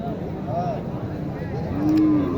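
A cow in heat moos with a drawn-out, low, droning call near the end, over a busy background of faint voices and farmyard noise at Mataji cattle market in Naogaon.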